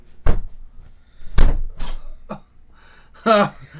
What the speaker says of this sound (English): let me close the door how quietly it closes